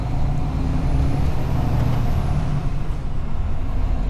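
A hazardous goods truck with a manual gearbox rumbles heavily from inside the cab, a loud, steady low engine drone under a faint hiss, with no one talking.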